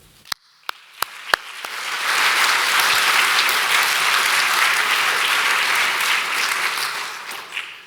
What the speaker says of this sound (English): deserves a large applause